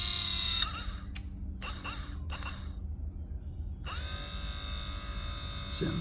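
A small electric motor from a Jaguar S2 XJ6 rear window spins its shaft on the bench, a steady whirring hum broken by several short bursts and gaps before running continuously again, close and fairly quiet, without speech.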